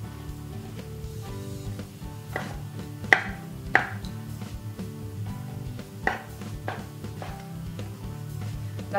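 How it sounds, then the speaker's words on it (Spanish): A knife chops vegetables into thick strips for a vegan seafood paella, giving a few sharp, scattered cutting knocks over steady background music. "Las cortamos así en tiras."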